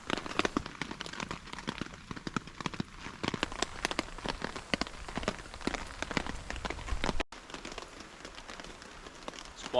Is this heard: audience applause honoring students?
no